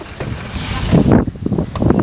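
Gusty wind buffets the microphone outdoors at a festival, loud rumbling bursts and roaring that swell and drop irregularly, overwhelming other sounds.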